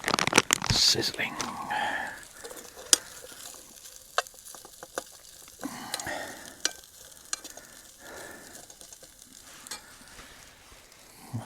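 Food sizzling in a pan on a camp stove at a campsite, soft crackling and frying hiss with stirring and scraping clicks, fairly quiet and close, with someone speaking briefly over it.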